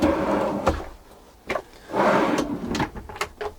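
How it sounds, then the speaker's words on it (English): A storage drawer with push-to-open latches in a Sprinter camper van opens or closes several times, giving a string of short sliding thumps and clicks close by over a low background. "Storage drawer"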